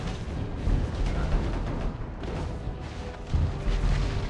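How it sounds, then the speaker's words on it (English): A turret collapses in the video game Mobile Legends with dense, rumbling booms and crashing bursts that swell and fade, followed by another heavy impact near the end, loud and close over game noise. "Our turret has been destroyed."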